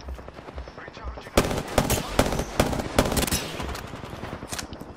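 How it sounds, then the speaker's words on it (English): Rapid gunfire bursts in an Apex Legends firefight, sharp repeated shots in clustered volleys, loud and close, mixed with spoken voices. "The enemies are shooting at me."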